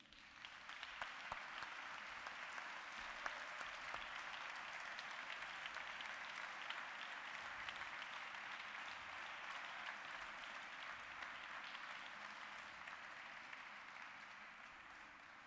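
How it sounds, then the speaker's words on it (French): Theater audience applauding after a business talk, a dense, steady wash of clapping from a large crowd that carries on evenly without a break, heard from some distance. "il ne faut jamais interrompre les applaudissements, vous les avez bien mérités"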